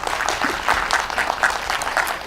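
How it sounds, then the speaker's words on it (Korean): Lecture audience at a real estate seminar clapping together, a dense, even burst of applause filling the short moment, fairly loud and close with no talk over it. "박수는 크게 치십시오"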